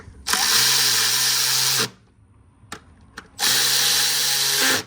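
A power tool, likely an impact or drill driver, runs down bolts on a Ford Transit engine part for a P1450 fault repair: two loud sustained bursts, each about one and a half seconds, separated by a short pause with small clicks.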